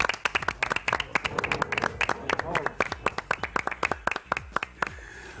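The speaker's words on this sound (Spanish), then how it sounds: "Demano un aplaudiment pel Carazo" A small studio audience on a radio or TV talk show claps in sharp, distinct, fairly rhythmic hand claps, moderately loud, lasting several seconds while voices speak over it.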